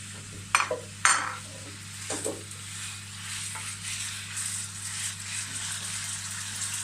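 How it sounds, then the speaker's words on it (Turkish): Chicken sizzles steadily in a hot pan, with a couple of sharp metallic utensil clanks near the start. "Etimizi koyduk arkadaşlar. Şimdi yavaş yavaş kavrulmaya başlıyor."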